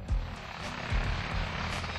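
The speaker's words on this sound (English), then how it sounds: "a few service members in Italy took a leap out of a Black Hawk helicopter." UH-60 Black Hawk helicopter at Aviano Air Base in Italy: steady engine and turbine roar with rhythmic rotor thumps pulsing about twice a second, loud and fairly near, no talk.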